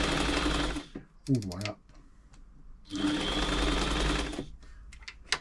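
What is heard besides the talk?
New Home 508 sewing machine straight stitching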